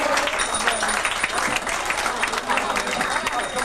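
An audience gives loud, sustained applause for likay folk-opera performers at a Thai stage show, dense clapping filling the space from start to finish, close and full, with a voice over it.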